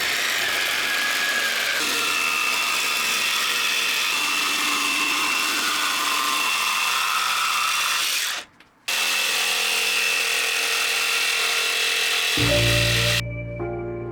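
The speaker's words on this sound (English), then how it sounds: "Once dry, I cut out the seat back shape with a jigsaw." A jigsaw cuts a curved seat back shape from a glued-up wooden chair panel, buzzing loud and steady. It stops briefly, then restarts for a shorter cut.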